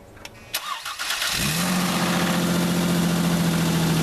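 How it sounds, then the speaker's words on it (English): A 2001-2007 Ford Escape engine cranks and fires up, then settles into a loud, rumbling idle with a rough exhaust note from a faulty exhaust. "Let's make sure the vehicle's still started. It's gonna be loud because of the exhaust."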